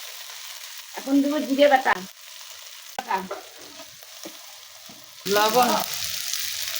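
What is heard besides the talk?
frying ginger, garlic, onion paste and spices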